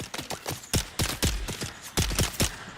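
Gunfire in the video game Dune Awakening: a rapid, irregular string of loud, sharp shots, some in quick bursts, ringing out close and clear with no talk over them.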